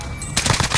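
Gunfire in the Call of Duty battle royale map Rebirth Island: after a brief lull, a burst of loud, rapid close-range shots cracks out in a quick rhythmic string.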